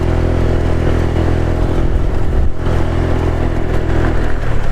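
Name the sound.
Honda Vario 125 motorcycle riding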